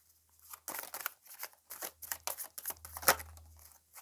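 Oracle cards are shuffled and handled up close in quick papery bursts, with rapid riffling swishes and crisp card snaps over a low steady hum.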